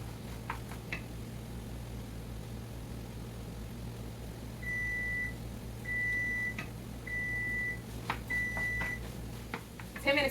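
A kitchen timer signals the minutes are up with four evenly spaced, steady electronic beeps, each about half a second long, over a low constant kitchen hum with a few faint clicks.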